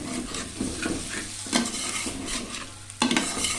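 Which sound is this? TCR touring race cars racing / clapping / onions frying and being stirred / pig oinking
onions frying and being stirred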